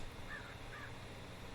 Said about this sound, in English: Now we have a crow!